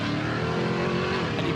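An off-road race car pulls away from the start line during King of the Hammers qualifying, its engine snarling loud and sustained, with a rising, slightly shifting tone over rough, gritty noise.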